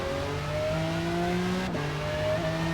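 Race car engine in Forza Motorsport running on the pit limiter, a steady droning hum with stacked tones held at a constant pitch, with a brief dip and click midway, and no talk over it.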